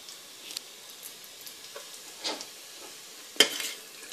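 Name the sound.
ginger browning in butter in a pan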